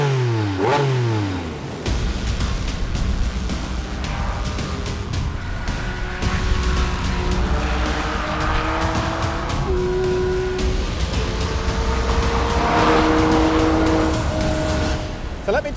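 A 2023 Porsche 718 Cayman GT4 RS engine revs and accelerates on a drive, a loud rising roar with repeated upward pitch sweeps through gear changes and brief dips, steady and close throughout.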